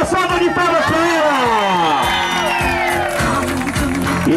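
A party crowd cheers and whoops for Vanilde at a celebration in Vila Formosa, with clapping under loud, excited voices and a gliding announcer's call throughout.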